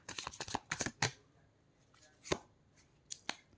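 Tarot cards are shuffled and drawn, giving quick bursts of papery riffles and flicks, several in a row at the start, then a few separate snaps after pauses, close and fairly quiet.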